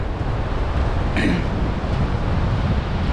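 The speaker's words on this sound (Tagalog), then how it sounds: "malakas yung alon eh, kaya mahangin" Steady, loud rushing wind buffeting the microphone over a constant wash of strong ocean surf at a beach resort, with a brief hiss midway.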